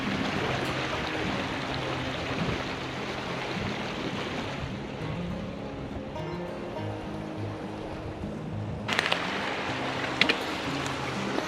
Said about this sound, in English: And it's gonna flow right into this creek, right into the Truckee River.